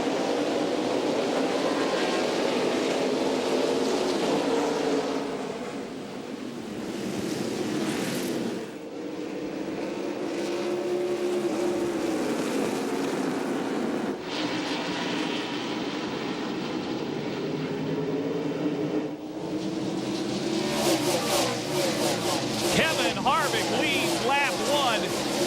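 NASCAR stock cars at Myrtle Beach Speedway roar together toward the green flag for a 250-lap race, a loud, continuous engine drone with a rising crescendo near the end, under a race commentator's steady talk.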